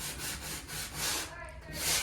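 Soft, rhythmic rubbing strokes of light hand sanding over a drywall patch, repeated back and forth at an even pace, quiet and close.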